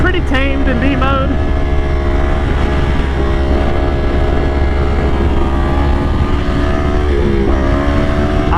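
Yamaha R1 1000cc sport motorcycle engine running steadily during a wheelie in B mode, a loud continuous drone with steady harmonics and slight pitch shifts near the start and end, heard close up under wind.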